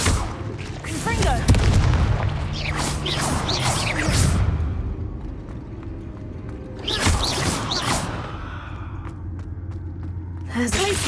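Repeated booming fire-spell blasts in Hogwarts Legacy on Xbox Series X, with whooshing bursts and rumbling impacts in two loud clusters amid game sounds, while a voice talks over the action.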